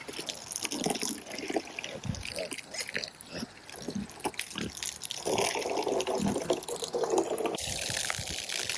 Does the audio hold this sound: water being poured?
yes